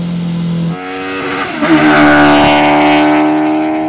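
Mazda Miata with a swapped Hayabusa motorcycle engine, idling briefly before a loud, close rev climbing toward 11,000 RPM, a high sustained engine wail.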